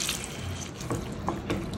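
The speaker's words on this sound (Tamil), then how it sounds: "இப்போ சிக்கன் வேக வைக்கிறதுக்கான தண்ணி ஆட் பண்ணிடலாம்." Water poured into chicken masala for Chettinad pepper chicken, a steady close splashing pour with a few brief gurgling bursts.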